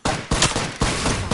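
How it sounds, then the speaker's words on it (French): Rapid automatic gunfire in the battle-royale shooter Apex Legends, loud and close, with several sharp bursts in quick succession and no talk over it. "Je tire."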